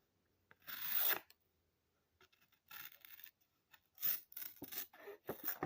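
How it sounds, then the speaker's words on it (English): A steel knife blade is drawn across a sharpening stone in several separate rasping strokes, each a short gritty scrape with pauses between, close and fairly quiet, with no voice. "This is the kind of steel that I love to sharpen"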